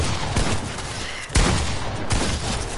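Gunshots in Fortnite crack in a few loud bursts, sharp reports separated by brief pauses with a dense, echoing tail between them.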